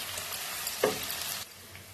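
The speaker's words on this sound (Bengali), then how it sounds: "পেঁয়াজটাকে পুরো বেরেস্তা করে ভেজে তুলে রাখবো।" Onions deep frying in oil until browned, a continuous soft sizzling hiss with one brief stir or clatter near the middle before the sound drops lower.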